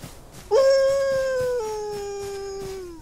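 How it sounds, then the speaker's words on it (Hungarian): A wolf in the survival video game Outlaws of the Old West lets out a single loud, sustained howl, close and clear, holding one tone before dropping slightly and fading out. "Fut a farkas utánam."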